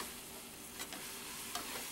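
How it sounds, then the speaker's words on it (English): Steady close sizzling of food frying in a pan, with a couple of faint scraping stirs, no voices. "But I am frying."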